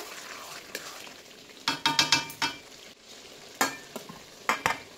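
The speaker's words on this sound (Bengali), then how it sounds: "আমি ভালো করে একটু নেড়ে নিচ্ছি।" A spoon stirs desi chicken curry, browned meat in a pan on the stove, making bursts of scraping and clinking with a soft sizzle underneath, in separate strokes with quiet gaps between them.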